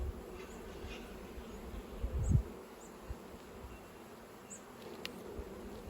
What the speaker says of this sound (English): this hive has certainly got a lot of bees